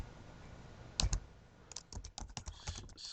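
Typing on a computer keyboard while filling in a cloud HR management form, with a pair of clicks followed by a run of quick, irregular keystrokes at close range, alone without talk.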